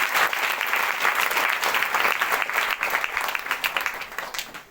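A church congregation at a Sunday prayer service claps loudly in thanks to the Lord, a dense, continuous wash of hand claps filling the whole stretch without pause.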